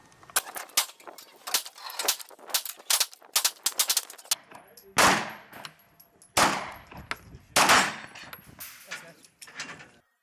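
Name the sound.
9mm pistol gunshots with home-loaded bullets at range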